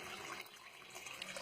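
Water poured out in a soft continuous trickle and splash, faint and close, lasting the whole short moment without any voices.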